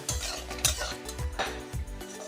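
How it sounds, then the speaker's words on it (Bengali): Lentil bori (sun-dried lentil dumplings) frying in a pan, with repeated scraping stirs over a steady oil sizzle; close and fairly loud, no talk. "বড়িটা বেশ লাল করে ভেজে নেব।"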